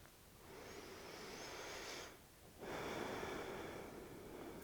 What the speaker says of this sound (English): Taking the last couple of breaths here this morning